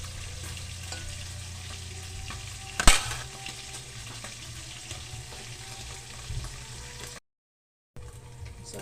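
Small fish frying in oil in a pan, a steady close sizzle and crackle running throughout, with a sharp clatter near the start and a brief cut to silence toward the end.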